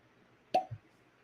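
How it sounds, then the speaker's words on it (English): A cork pulled from a bottle of bottled-in-bond whiskey gives one crisp, close pop, followed a moment later by a soft, low thud, with near silence around it. "Not a bad cork pop there."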